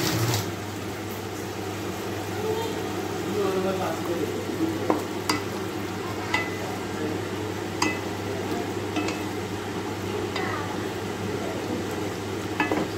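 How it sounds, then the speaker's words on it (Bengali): Egg polao masala with fried potatoes is stirred in a sizzling pan, a continuous frying hiss punctuated by occasional sharp spatula clicks against the metal, close up with little talk. "আবার এটা একটু নেড়ে চেড়ে নেব"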